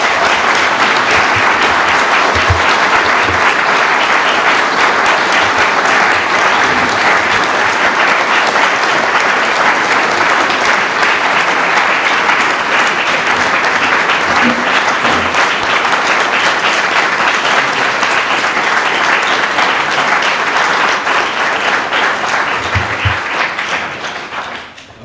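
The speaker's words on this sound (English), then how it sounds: "I could well think of clapping for the rest of the meeting." Sustained, loud audience applause fills a meeting hall after a political speech by Jeremy Corbyn, a steady dense wash of many hands clapping for about 23 seconds before tapering off at the end.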